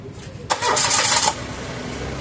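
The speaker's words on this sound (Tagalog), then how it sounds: "pa-start ko muna itong makina" A 2025 Mitsubishi Mirage engine cranks and catches, a short loud whirring start that drops back into a low idle hum.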